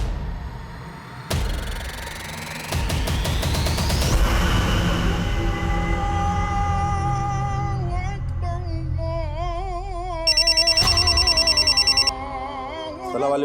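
A telephone rings during a tense crime-drama scene, a short burst of rapid electronic trills over dramatic background music.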